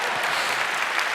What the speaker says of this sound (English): enterprise and government customers can clap too